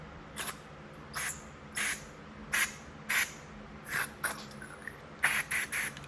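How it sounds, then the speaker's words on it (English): Short hissing bursts from an aerosol can of brake cleaner sprayed on a Honda Insight, about ten quick sprays in an uneven rhythm, close by and moderately loud. "So I'm just gonna spray some cleaner in there."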